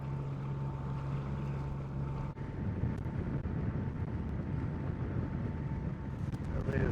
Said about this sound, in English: Not a great time to sail, so we'll carry on motoring.